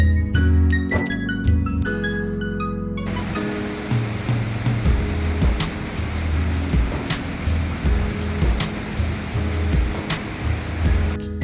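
A cold mountain stream rushes along the Dhaulagiri trek in Myagdi, Nepal, as a loud, steady broadband roar of flowing water, following a brief tonal passage at the start.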